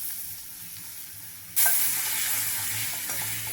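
Grated raw mango hits hot oil with curry leaves, asafoetida and turmeric, setting off a sudden loud sizzle that settles into steady close frying and stirring, alone with no talk.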